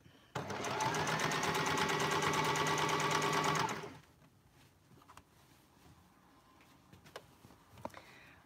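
A sewing machine runs steadily for about three and a half seconds while stitching the matched seams of a garment mock-up, then stops, leaving quiet room noise with a few small clicks.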